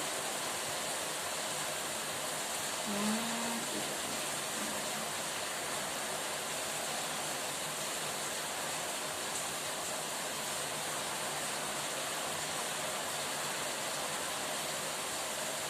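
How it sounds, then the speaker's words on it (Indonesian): Heavy rain falling steadily during a religious lesson, a broad, even wash of noise that holds at a constant, fairly soft level throughout with no speech over it. "Hujan deras kali nggak dengar ya"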